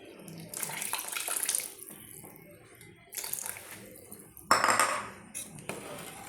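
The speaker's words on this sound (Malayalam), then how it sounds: "നമുക്ക് ലാസ്റ്റ് രണ്ടാം പാൽ ഒഴിച്ചു കൊടുക്കാം" Second coconut milk poured into a pot of chickpea payasam, with splashy pouring bursts separated by quiet gaps and a few light clinks of utensils.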